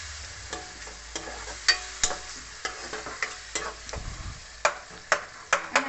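Green onion leaves being stirred into a sizzling gravy in a pan: repeated scraping spoon strokes and clicks over a steady low sizzle, close up, with no talk.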